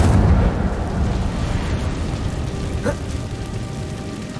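Incendio fire spell cast in the video game Hogwarts Legacy: a deep, loud burst up front that settles into a sustained rumbling roar, with a brief crackle near the end.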